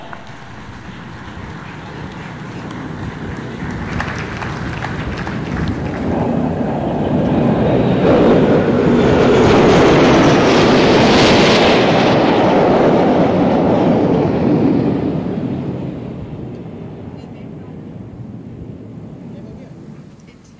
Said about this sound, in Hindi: ध्वनि की दुगनी गति से उड़ने में सक्षम आसमान को चीरते आ रहा है MiG-29 के लड़ाकू विमानों का यह दस्ता